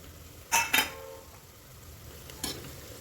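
A spoon stirs chopped vegetables and spices into onions frying in oil in a home kitchen, with a few brief scraping clinks against the pan over a soft background sizzle.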